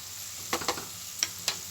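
A spoon stirs amla rice mixed with salt and turmeric in a pan, giving a few soft scraping and clinking strokes over a faint background hiss, close and brief with no talking.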